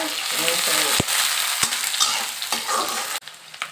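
Chopped garlic, ginger, onion and dried chili frying in a pan, a loud close sizzle with stirring scrapes and a couple of sharp utensil knocks on the pan.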